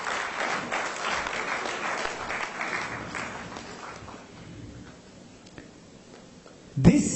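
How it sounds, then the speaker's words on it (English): Audience applause at the Business Goa Awards for Corporate Excellence 2014 ceremony, a sustained crowd clapping that swells early then gradually thins and fades over several seconds, ending with a sudden loud thump. "Give her a big round of applause"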